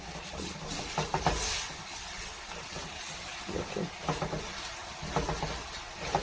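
Honey melted with black pepper, cinnamon and ginger juice being stirred in a pan at home, a soft intermittent scraping and gentle sizzle over a faint background hiss, with brief stirring bursts recurring.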